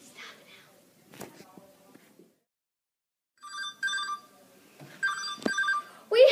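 A telephone rings with an incoming call in bursts of bright electronic trills, moderately close, after a stretch of quiet talking.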